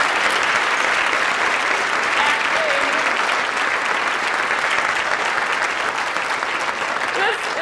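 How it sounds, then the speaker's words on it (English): An audience at an MIT Medical meeting gives a round of applause for the leadership team, dense continuous clapping filling the room at full volume, with faint voices mixed in. "we just should give a round of applause for everybody that came up here"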